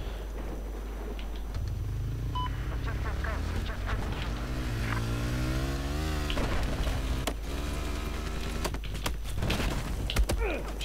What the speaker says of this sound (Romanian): Hai să luăm motocicleta repede.